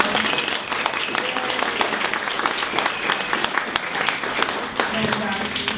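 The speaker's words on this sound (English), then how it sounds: "can we have one more round of applause for Charlie?" A conference audience breaks into dense, steady applause after a talk on visual storytelling and content marketing, and a voice speaks over the clapping.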